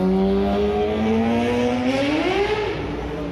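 Loud car engines rev and drone on a street in Kyrgyzstan, pitch climbing as one accelerates close by.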